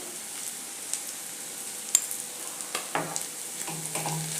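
Spices, turmeric and coriander-cumin powder, stirred into okra fried with gram flour: quiet scraping strokes over a faint sizzle, a few sharper taps near the middle and a low rumble toward the end.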